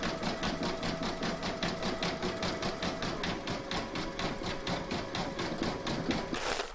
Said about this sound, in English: I'm now going to stitch round number 6